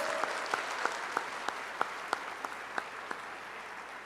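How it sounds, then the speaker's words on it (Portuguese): A church congregation applauding steadily, with sharp individual claps standing out at a regular rhythm over a dense wash of clapping. "se você crê, pode aplaudir para valer esse Senhor"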